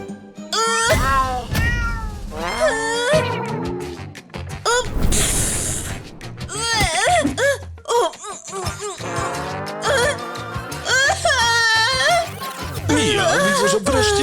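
Cartoon cat meowing repeatedly in a house, a series of loud, rising and falling meows close by, mixed with giggles and laughter.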